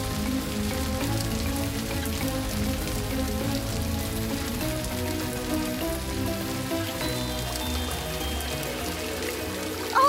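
Steady rain falls in a cartoon scene, a dense, continuous patter running at an even level throughout with no voices.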